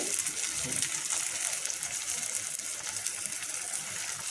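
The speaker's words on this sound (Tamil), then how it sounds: "தண்ணி ஒரு கப் ஊற்றிட்டு" A cup of water poured into a pot of cooking snake gourd kootu, a steady close splashing gush that runs evenly throughout with no voice over it.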